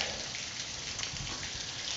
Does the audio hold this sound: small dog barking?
no